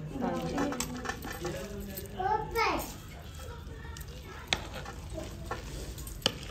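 A spoon clinks against a pot of cooked rice, two sharp isolated taps after a stretch of children talking and playing nearby.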